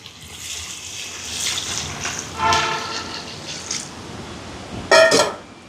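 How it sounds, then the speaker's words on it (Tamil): Water being poured into a pot of curry, a rushing, splashing flow that swells and fades over several seconds, ending in a short louder gush. "இப்போ குழம்புக்கு தண்ணி சேர்ப்போம்."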